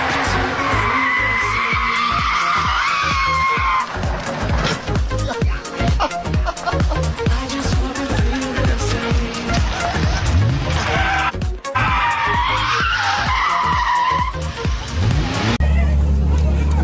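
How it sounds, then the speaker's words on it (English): A McLaren race car with a 6.1-litre V12 skids off the track into the barriers during a race, giving harsh tyre scrubbing and engine noise. It is loud and continuous, mixed with other busy sound. "off into the barriers goes the McLaren"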